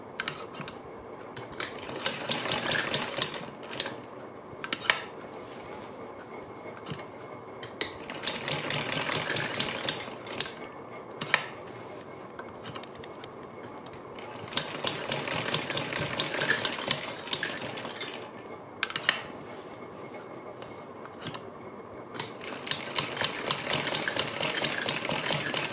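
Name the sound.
sewing machine stitching leaf pieces onto a blouse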